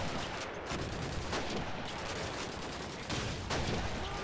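Rapid gunfire from the Call of Duty 2 video game on Xbox, a dense, continuous stream of close shots and explosive bursts with no pauses, steady and loud throughout.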